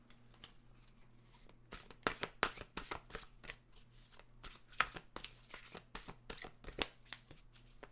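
A deck of oracle cards being shuffled by hand, quiet papery riffles and flicks in quick irregular bursts, close and soft with no talking.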